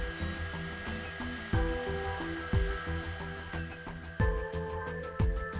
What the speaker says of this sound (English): heat only the parts to be molded with a hot air blower or heat gun on low heat.